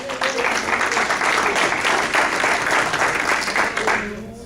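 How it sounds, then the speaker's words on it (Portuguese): A church congregation claps steadily in sustained applause, loud and dense, fading slightly toward the end. "Aplauda o Senhor por isso."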